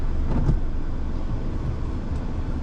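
Steady, close rumble of a car driving down a road, with continuous road and engine noise and no talking.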